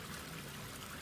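Toilet flushing in the video game Satisfactory, a steady rush of splashing, trickling water filling the whole second, fairly loud and alone with no voices.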